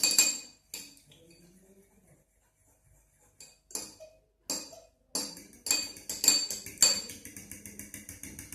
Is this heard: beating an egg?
yes